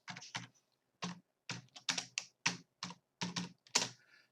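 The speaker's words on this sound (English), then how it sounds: "type their name in there" A name is typed on a computer keyboard in short, close bursts of crisp keystrokes separated by brief pauses, quiet and alone.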